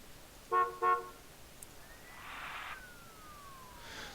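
City traffic in SimCity 5 (2013): two short car horn toots up close, then a faint passing vehicle swoosh and a distant hum of traffic, quiet and with no voices.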